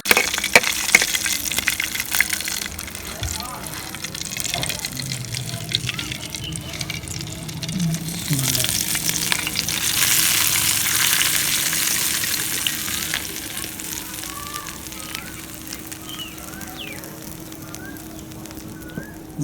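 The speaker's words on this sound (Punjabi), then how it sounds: "ਆਇਲ ਗਰਮ ਹੋ ਗਿਆ, ਹੁਣ ਇਹਦੇ 'ਚ ਅਸਾਂ ਸ਼ਾਮਿਲ ਕਰਾਂਗੇ ਰਾਈ।" Mustard seeds, cumin and red chili sizzle in hot oil in a frying pan for brinjal raita, a steady broadband crackle with scattered pops and occasional stirring, close and fairly loud with no talk.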